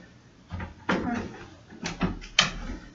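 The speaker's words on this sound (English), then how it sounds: "I can close the door and it'll latch even within the door." A door being pushed shut onto a belt used for martial arts training, with a few soft knocks, a brief rubbing shuffle and a sharper click as it latches, heard close and fairly quiet.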